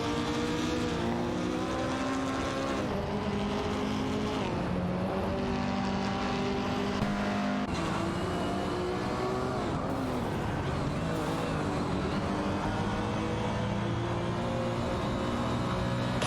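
Race car engines drone and whine continuously in a simulated racing game, pitches rising and falling as cars jostle and overtake, steady and loud with layered engine tones throughout.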